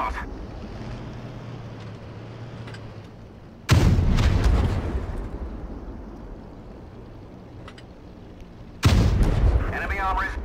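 Tank cannon fire in a tank war video game: two loud, sharp booms with long rumbling decays, spaced several seconds apart over a steady low background.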